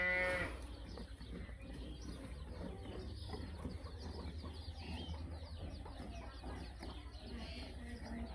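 A Jersey dairy cow gives a short moo at the very start, followed by a steady low farmyard hum with faint clucking chickens in the background.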